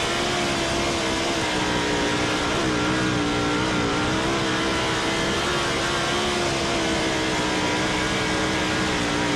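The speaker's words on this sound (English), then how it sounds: "around a bullring racetrack in a 410 sprint car, foot flat on the floor" 410 sprint car engine held flat out on a short bullring track during time trials, a loud, continuous high-revving roar with wavering pitch as the car circles, with no talk over it.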